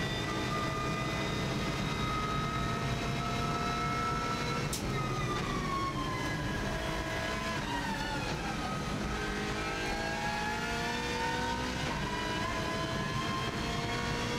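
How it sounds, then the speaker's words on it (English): A race car runs flat out on the Isle of Man TT road course, its engine a loud continuous high-revving roar with pitch that drops and then climbs back through gear changes, heard from on board with heavy wind rush. "Car moves around a bit there, and now flat out down to the Cregna Bar."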